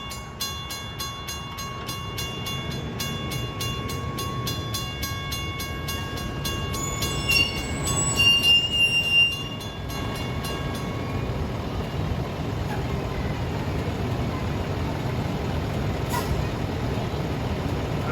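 A westbound commuter train departing Patchogue station on the Montauk Branch rumbles steadily nearby with a low, continuous roar, while a brief high metallic squeal rises in the middle before the rolling noise carries on.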